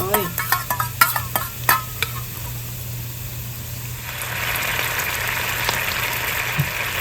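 Sauce goes into a hot pan of fried ginger and scallion for steamed sea bass: a quick run of utensil clicks and clatter, then a steady, louder sizzle that holds to the end.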